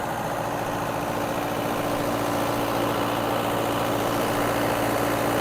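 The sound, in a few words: tractor engine running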